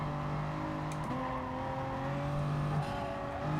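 A race car in a motor sport time trial racing video game drives its track, engine droning with steady tones that shift as it brakes and accelerates through the laps, heard alone without talk.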